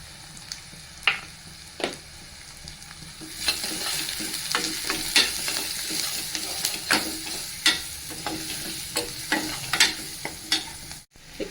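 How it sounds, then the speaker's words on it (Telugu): Mustard seeds, cumin and finely chopped onion fry in hot oil with a steady sizzle, broken by repeated scrapes and clacks of a spoon stirring the pan, growing louder after the first few seconds. "ఆయిల్ వేసుకున్నా నేను ఇప్పుడు ఇందులో ఆవాలు జీలకర్ర వేసుకుందాం ఆవాలు జీలకర్ర ఉల్లిగడ్డ సన్నగా తరుక్కున్నాం"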